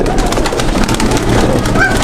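Pakistani high-flying pigeons coo inside a loft, a dense, close and loud chorus of low throaty calls with no talking.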